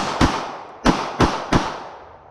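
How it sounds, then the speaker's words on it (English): A S&W Bodyguard 380 pocket pistol fires four quick loud shots, each a sharp crack with a short echoing tail, the last three in fast rhythm. "Now let's try the rapid fire and see how this goes."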